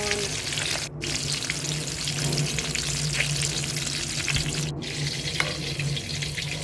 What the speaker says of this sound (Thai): ทอดปลาทูจะทอดปลาทูก่อน